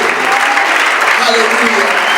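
A church audience claps loudly in acclaim for the Lord Jesus Christ, a steady dense wash of hands throughout the short stretch.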